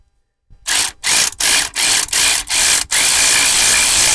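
A ratchet tightens bolts during a front and rear brake pad change on a Vauxhall Vivaro van, giving several quick bursts of loud clicking separated by short pauses and then one longer continuous run, close up with no talk.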